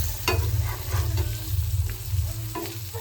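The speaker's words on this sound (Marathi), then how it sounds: "दुसऱ्या साईडून जी आहे मच्छी आपली व्यवस्थित अशी फ्राय झालेली आहे" Fish frying in a pan, with a steady close sizzle broken by a few brief stirring or scraping clicks; no voices.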